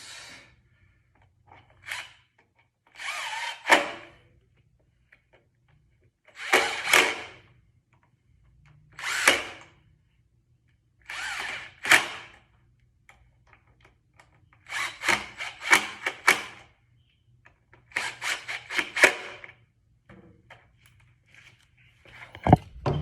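Repeated short bursts of an electric power tool whirring as it drives screws on a Honda Rebel 1100 motorcycle, each lasting a second or two, separated by pauses with a faint low hum in the background.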